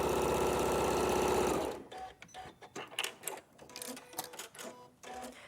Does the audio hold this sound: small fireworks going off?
no